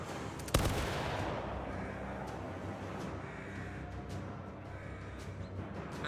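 A volley of gunfire fired on command in a VRChat roleplay, one sharp, loud, near blast followed by a long rumbling decay and scattered echoing cracks.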